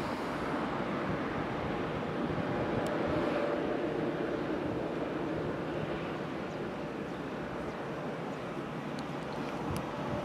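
Steady, broad jet roar from an airliner landing or taking off at Madeira Airport, continuous and fairly loud throughout, with some wind buffeting and no voices.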